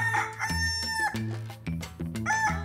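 A rooster crows up close, a loud drawn-out cock-a-doodle-doo followed by short clucking notes.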